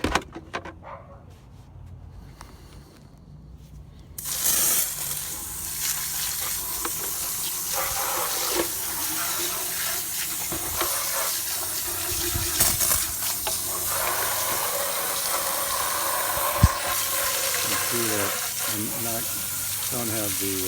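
A water hose blasts hard onto a tilapia aquarium cascade filter during cleaning. After a quieter start the loud, steady hissing spray kicks in and runs on close by.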